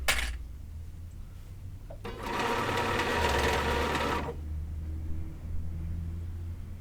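A sewing machine stitches a ruffled pillowcase, running in one steady whirring burst of about two seconds between quieter pauses with low background hum.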